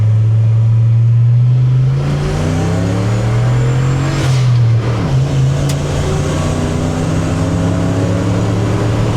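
A 1976 Ford F-250 truck accelerates hard through first gear, its loud engine rising in pitch, dipping briefly at a shift, then pulling strongly again close by.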